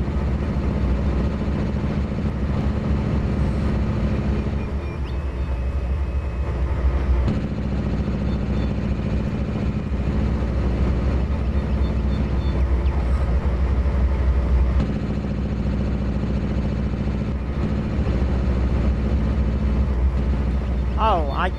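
GE diesel locomotives in the Trainz simulator rumble with a continuous low, heavy engine drone and steady mechanical hum, unbroken for the whole stretch.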